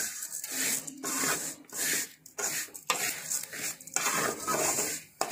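Vermicelli (semiya) is stirred and roasted in a pan for kesari, with close scraping and rustling strokes that come in uneven bursts and a faint sizzle underneath.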